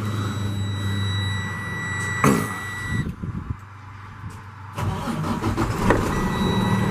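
A 2014 Freightliner M2 flatbed truck's Cummins ISL 300-horsepower diesel engine cranks and catches, then settles into a steady loud rumble close by, with a brief dip in between.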